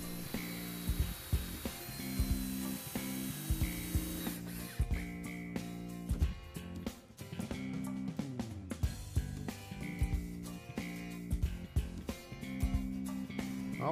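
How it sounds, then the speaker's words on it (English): Pine boards for a potting table being clamped and screwed into place, with a ratcheting clamp and repeated short bursts of a power screwdriver over steady workshop background, close and fairly loud throughout. "Now, just clamp and screw the remaining boards into place."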